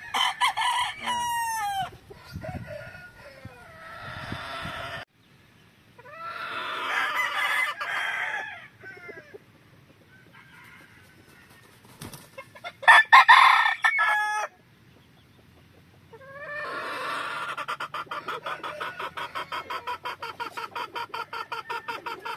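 An 11-month-old gamecock being readied for a derby crows repeatedly and clucks between calls, loud and close, with short quiet gaps and no talking.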